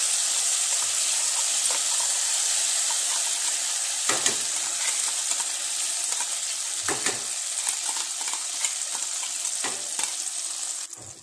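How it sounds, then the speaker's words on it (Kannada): Ground banana for banana halva frying in a pan over a gas flame, a steady close sizzle with occasional scraping stirs and clinks, running on without talk. "ಈಗ ಅದೇ ಬಾಣಲಿಗೆ ನಾನು ಗ್ರೈಂಡ್ ಮಾಡಿ ಇಟ್ಟ ಬಾಳೆಹಣ್ಣನ್ನು ಹಾಕ್ತೇನೆ"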